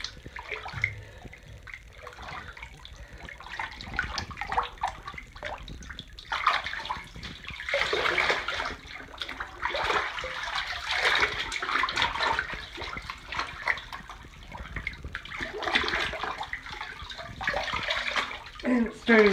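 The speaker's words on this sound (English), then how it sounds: "So I rinse it in super, super cold water." Super cold tap water runs steadily while tie-dyed fabric is rinsed under it, splashing surging louder in stretches, with a person talking at times.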